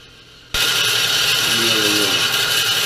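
A bandsaw cutting through a mandrel workpiece bursts on after half a second of quiet, then runs as a loud, steady, close-up whine and rush of noise for the rest of the clip, with no one speaking.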